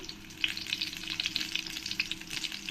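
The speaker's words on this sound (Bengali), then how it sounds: "নেড়ে দিয়ে পটলগুলোকে আমি ভালো করে ভেজে নেব" Pointed gourd (parwal) pieces frying in oil in a pan, a soft, close, crackling sizzle with bubbly pops throughout, quiet and without talk.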